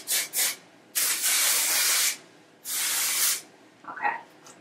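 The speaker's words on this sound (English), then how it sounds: "Spray a little bit more." A scented spray is misted onto soft locs hair in several close, loud hissing bursts, two long and a couple short, with a faint voice murmuring briefly afterward.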